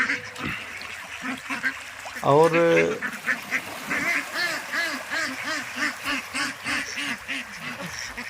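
Ducks kept on a farm pond quack in a steady rhythmic series of loud, close calls, with someone speaking briefly at the start.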